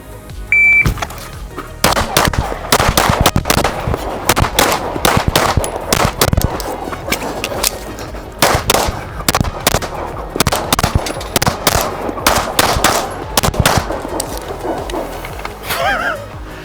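Rapid gunshots ring out during a USPSA practical shooting stage, loud sharp reports in quick bursts with short pauses between strings, including a brief break for a reload, continuing steadily for the whole stretch.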